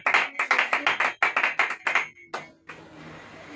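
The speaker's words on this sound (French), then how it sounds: "Acclamons Jésus." A church congregation claps in bursts of quick, fairly close applause that stops abruptly, leaving a brief quiet room tone.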